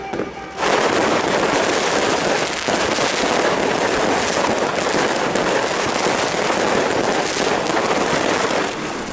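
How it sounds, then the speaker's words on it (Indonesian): Dense, continuous crackle and popping of many fireworks bursting at a New Year's celebration in a crowded Bandung city square, loud and unbroken for several seconds with no clear pauses. "warga tetap antusias menyaksikan pesta kembang api"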